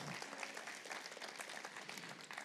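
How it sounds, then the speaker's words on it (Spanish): A church congregation applauding, dense steady clapping from many hands spread evenly through the room, heard from a little distance and fairly faint, with no talking over it. "Denle un aplauso al Señor."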